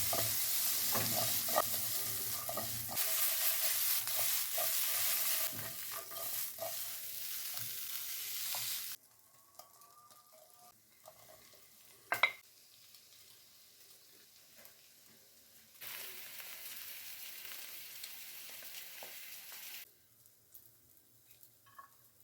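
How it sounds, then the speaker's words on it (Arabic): Green beans and cauliflower sizzle and fry in a pan, with stirring scrapes and clatters in bursts, the sizzle dropping off between stirs before returning; close and steady, no talk. "غادي نشحر اللوبيا بنفس الطريقه هي والشيفلور"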